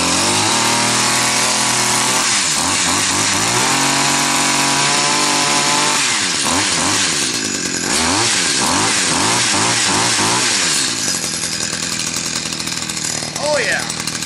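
A Stihl HS 45 hedge trimmer engine runs loud and close after being started and switched to open choke, its buzzing note steady at first, then rising and falling through several quick revs before settling again.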